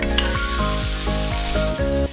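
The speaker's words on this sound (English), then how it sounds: "I'm gonna add in some oil and we'll start searing the pork chop" Pork chop searing in hot avocado oil in a pan, a steady close sizzle that runs unbroken throughout, with a few scraping stirs and a low rhythmic hum underneath.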